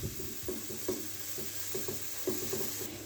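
Finely chopped onion frying in two tablespoons of oil in a pan, a steady sizzle with rhythmic scraping strokes of a spoon repeating every half second or so.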